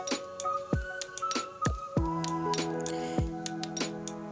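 Hibiscus flowers are smashed into a slimy hair mask, giving repeated wet squishing strikes at an uneven rhythm, close and fairly quiet, with sharp onsets and sticky smacking tails.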